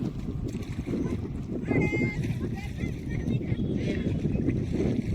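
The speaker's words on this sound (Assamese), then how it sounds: "দেখিছে মেচিনৰ নাও।" A motorboat on a river, where people wash rice and vegetables at the bank, gives a steady, close, low engine drone with wind buffeting throughout.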